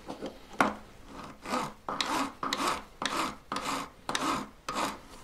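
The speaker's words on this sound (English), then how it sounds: "I would just be careful that you're filing directly down over the join" A metal file rasps back and forth across a wire join on a handmade wire-wrapped gallery pendant, about nine steady strokes in an even rhythm, close and fairly loud with no voices.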